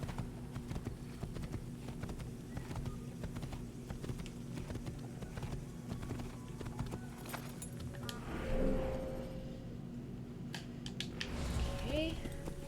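Horse hooves clip-clop at a walking pace in a video game, a steady faint rhythm running beneath game ambience and occasional effects.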